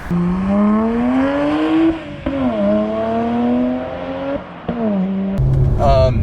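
A BMW 1M engine pulls hard from inside the car, revs climbing steadily through gears with brief dips at each shift, loud and close, ending in a sharper rise.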